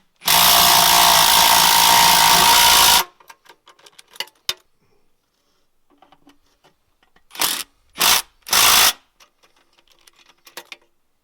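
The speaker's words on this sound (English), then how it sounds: "Use a 9/16" socket to drive in the concrete anchors." A power drill with a 9/16 inch socket drives concrete anchors during a security lid installation: one loud, sustained whir of about three seconds, then scattered clicks and handling noise, and three short bursts of the drill later on.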